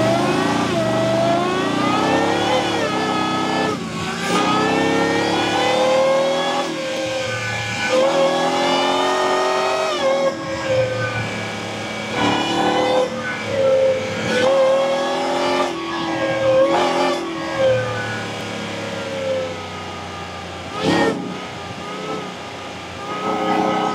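A Ford Raptor R truck's supercharged engine revs hard while driving, loud and close, with repeated rising and falling surges of acceleration and brief dips between pulls.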